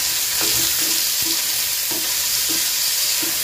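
Pieces of chopped tomato frying in a pan, a steady close sizzle with occasional scraping stirs of a spoon breaking through, no voices.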